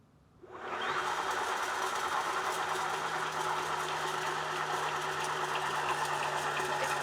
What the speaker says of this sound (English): that's probably why I got this motor so cheap. It's crazy loud. I hear a growl, I hear a click.